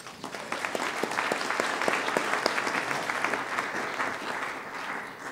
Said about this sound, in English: So big round of applause for Cherie.